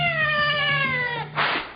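A single loud, close cat meow, long and strained like a caterwaul, that falls slightly in pitch and ends in a brief breathy hiss.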